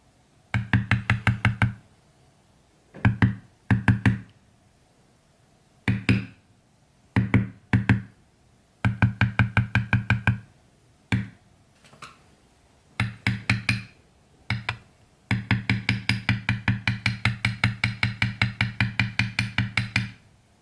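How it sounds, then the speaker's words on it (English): A bevel tool is struck with a mallet to bevel tooled leather for a purse, producing sharp close knocks in quick bursts of several strikes with short pauses, ending in a longer steady run of taps. "You can always go back and bevel deeper if you need to, but if you bevel too deep, there's not a whole lot you can do about it."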